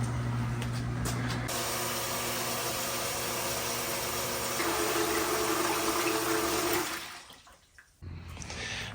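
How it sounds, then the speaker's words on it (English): Dishwasher used as a hot parts washer with a gas can loaded in the top rack, its steady spray and water churning holding constant for about seven seconds before dropping away into quieter drain and pump noise. "we're going to go ahead and get this second round going here"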